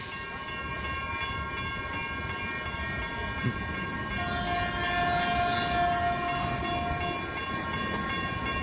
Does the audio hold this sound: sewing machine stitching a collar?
no